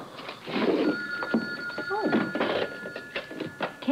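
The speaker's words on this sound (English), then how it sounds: "Would you mind ringing Mr. Shaw's private number" A telephone rings in repeated bursts with steady electronic tones, while people talk over it throughout.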